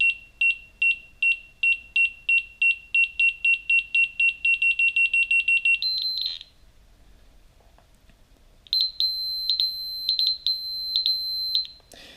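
A skydiving altimeter sounds its canopy height alarms: a rapid run of about seventeen close, loud electronic beeps, a short pause, then a second alarm of longer steady tones broken by brief gaps.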